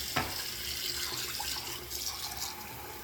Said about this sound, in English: Just add some hot water to my cup